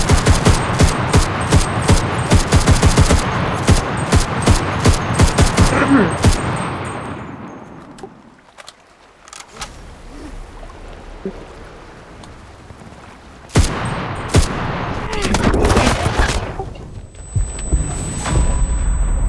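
Rapid bursts of gunfire in the battle royale game Cuisine Royale, dense and loud for the first seven seconds, then a quieter stretch of rumbling ambience before more sharp shots crack out near the end.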